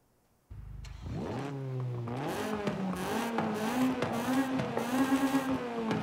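A Honda CRX with a swapped B16 engine in Forza Horizon 5 starts up and revs, its pitch climbing and holding high in a loud, buzzy, sustained whine.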